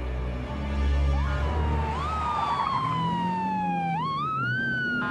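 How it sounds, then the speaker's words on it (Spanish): A police patrol car siren wails close by, its rising and falling tone sweeping up and down over a rumbling engine and traffic. "¡Venga la sirena!"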